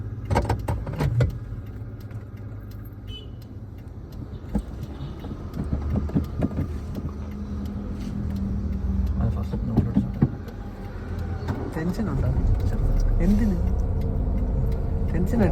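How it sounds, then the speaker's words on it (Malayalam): A car's engine starts and keeps running during a driving session. The low engine rumble holds steady beneath a person talking through most of the clip. "വണ്ടി സ്റ്റാർട്ട് ചെയ്യും"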